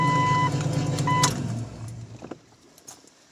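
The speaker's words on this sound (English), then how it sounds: "Let's see if we got a faster cranking." An old Jeep engine cranks over on a repaired starter, a loud steady churning drone with a steady tone that cuts off abruptly partway through, leaving faint clicks and rattles trailing into quiet.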